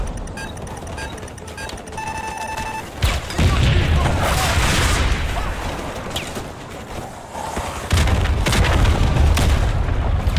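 Grenade blasts and gunfire in a Call of Duty campaign battle, with heavy booming explosions at about three and eight seconds over a steady rumble of rapid gunfire, loud and close, with a voice talking over it.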